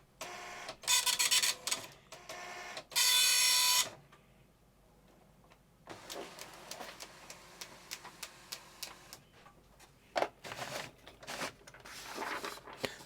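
An Epson FX80 9-pin dot matrix printer printing a low-resolution graphics screen dump in one direction only: loud buzzing passes of the print head separated by pauses, carriage returns and clicky line feeds, close and alone.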